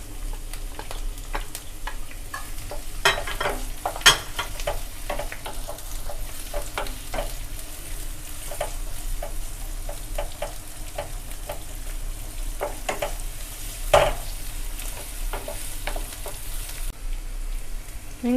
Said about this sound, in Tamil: கருவேப்பிலை பொரிஞ்சோன்னே சின்ன வெங்காயத்தை உள்ளே சேர்த்துக்கலாம்.